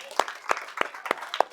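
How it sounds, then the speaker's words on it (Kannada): A handful of sharp, evenly spaced claps ring out at a school's 80th Independence Day celebration, five distinct strikes in a slow, steady rhythm, moderately close with a little background murmur between them. "ಎಲ್ಲರೂ ಚಪ್ಪಾಳೆ ಹೊಡೀರಿ"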